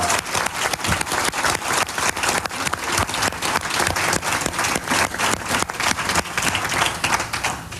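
An audience gives Betsy Frank a warm, sustained round of applause, dense clapping from many hands that rolls on steadily at an even level with no talk over it.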